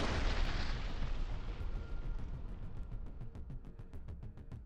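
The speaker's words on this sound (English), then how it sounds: "Russian soldiers blew up an enemy fortress by launching a simple anti-tank mine." An anti-tank mine detonates against an enemy fortification: a broad, rumbling blast that rolls out and slowly fades into scattered crackles and pops, heard at a distance.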